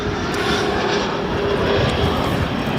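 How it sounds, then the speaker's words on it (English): United Express Mitsubishi CRJ 200 long range regional jet arriving at O'Hare, a loud steady engine roar with a faint whine, sustained for the whole clip and unbroken by voices. "United Express Mitsubishi CRJ 200 long range from Fort Wayne."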